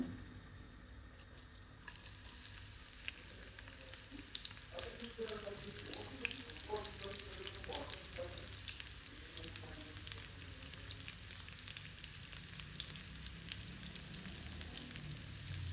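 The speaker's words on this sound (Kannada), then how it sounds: "ಎಣ್ಣೆ ಕಾದೈತಿ. ಮೊದಲ ಉಳ್ಳಾಗಡ್ಡಿ ಹಾಕೊಂಡು" Onions sizzling in hot oil in a pan while cooking prawn curry, a steady close frying crackle with bursts of popping spatter early on, continuing evenly throughout without speech.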